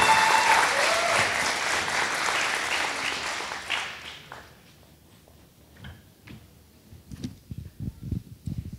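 Audience applause for prize winners at a presentation contest, loud crowd clapping that dies away after about four seconds, followed by quiet room noise, scattered knocks and a few soft ticking taps.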